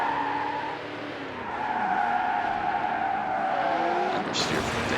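A car in Need for Speed Hot Pursuit 2 understeers and skids, its tires squealing in a long, loud, continuous screech over the engine roar, with a voice talking over it.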